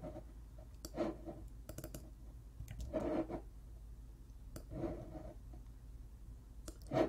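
Mouse clicks while working in Cricut design software, scattered short sharp taps including a quick double click, close and quiet over a faint room hum.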